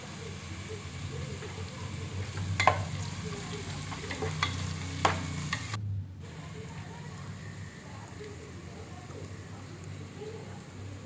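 Onion and carrots frying in a pan for Thalassery dum biryani, a continuous close sizzle with a few scraping stirs of the spoon before the sound drops to a quieter simmer.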